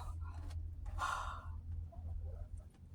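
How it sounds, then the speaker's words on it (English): A person blows their nose at close range to clear stuffiness, one strong burst of breathy noise in the middle over a steady low hum, with softer breathing and snuffles before and after. "I'm gonna blow my nose. It's getting all stuffy."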